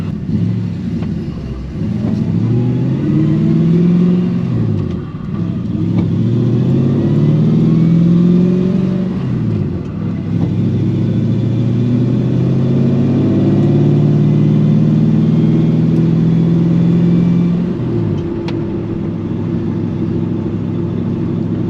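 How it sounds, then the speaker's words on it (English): A hot rod truck's engine runs close by for a long stretch as it warms up, with a deep, steady rumble broken by several rising and falling revs. "But once this truck gets warmed up, we'll pull on out of here."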